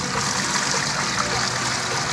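Water pours steadily through a strainer out of a mix of biochar made from Jerusalem artichoke stock, a continuous dense rushing trickle close by with no pauses.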